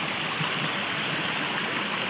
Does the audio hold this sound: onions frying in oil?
no